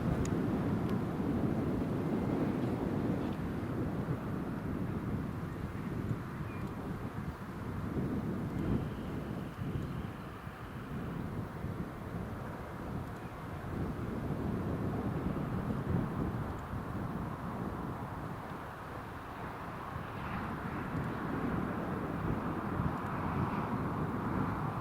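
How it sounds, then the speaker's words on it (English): A Ryanair Boeing 737 on final approach at Newcastle International Airport, a distant, steady low engine rumble mixed with wind noise. "I can see a 737 turning in on final"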